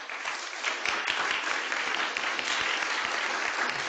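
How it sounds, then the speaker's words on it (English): Audience at a physics institute welcome session breaks into sustained applause for the conference coordinators, an even wash of clapping that swells slightly after the first second and holds. "Round of applause."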